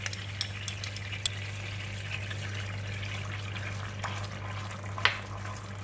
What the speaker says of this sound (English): the sauce is now boiling, and we're going to pour over the flour mix just to thicken the sauce